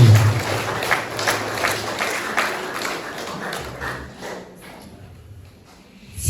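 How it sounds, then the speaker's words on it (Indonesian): An audience at a school gathering applauds, with loud, dense clapping that gradually thins and fades toward the end. "Mari kita berikan aplaus dulu."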